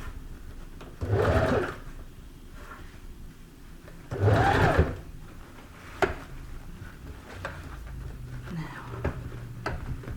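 A sewing machine stitches the bodice band of a party dress in two short bursts a few seconds apart, close and moderately loud, with quiet handling clicks and rustles between runs.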